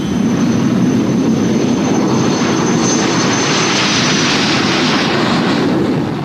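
An English Electric Canberra jet, the extra-long-nosed radar version, flies overhead with a loud, steady roar of engine noise that holds for several seconds.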